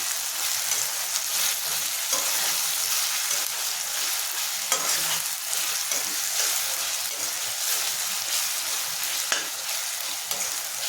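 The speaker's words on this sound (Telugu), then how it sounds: "ఇప్పుడు అల్లం కూడా బాగా వేపించుకోవాలి" Ginger stir-fried in a pan for a prawn and drumstick curry, a steady close sizzle with scraping stirring strokes throughout and no talk.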